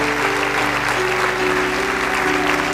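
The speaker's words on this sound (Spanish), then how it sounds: "Denle un fuerte aplauso a nuestro Dios" A church congregation applauds with steady, loud clapping while a sustained organ or keyboard chord plays underneath.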